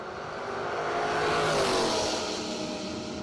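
An early 1970s Camaro and a 1962 Corvette race side by side on a drag strip, a loud engine roar that swells and fades as the cars pass, heard from the track side.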